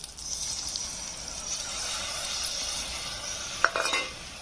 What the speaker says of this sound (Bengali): এবার এটা আমি ভালো করে নেড়ে ছেড়ে নেব মশলাটা কষতে কষতে দেখো কি সুন্দর তেল ছেড়ে দিয়েছে